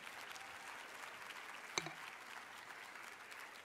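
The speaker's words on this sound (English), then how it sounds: "Let's give him another round of applause" Audience applause at a lecture series, a soft, even patter of many hands heard from a distance, with one brief sharp knock partway through.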